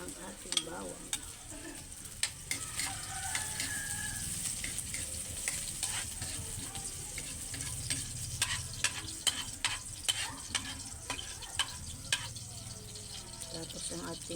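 Garlic sizzles steadily in a hot frying pan as it is stirred, with crisp clicks and scrapes of the utensil repeating over a constant frying hiss.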